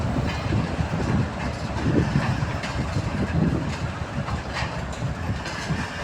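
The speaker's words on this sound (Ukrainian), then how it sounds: "маневровий збирає, комплектує вантажний потяг." Shunting locomotive hauling a freight train, with a steady, loud rumble of rolling wagons and faint rhythmic clatter running the whole time, close by and uninterrupted.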